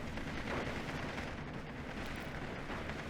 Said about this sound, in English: Big booms coming in.